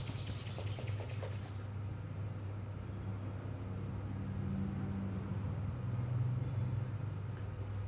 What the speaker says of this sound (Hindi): धीरे से दोनों हाथों को रब करेंगे